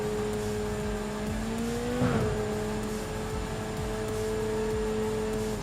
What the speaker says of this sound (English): You can hear a turbo more than we can hear our engine.